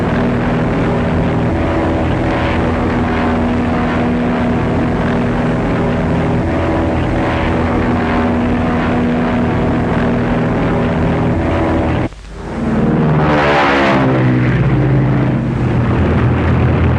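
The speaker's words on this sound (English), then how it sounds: "High-wing monoplane just ahead of you, about 3 miles." A propeller-driven high-wing monoplane drones steadily throughout, a continuous engine hum that dips briefly near the end before swelling again, sounding moderately close.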